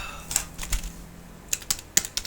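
Irregular clicks of keys being typed on a computer keyboard, close by, in short bursts with brief pauses between.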